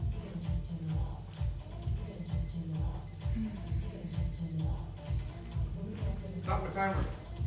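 A workout timer alarm rings out loud and steady during an at-home quarantine exercise session, its repeating electronic beeps cycling in a regular rhythm over a thumping low background.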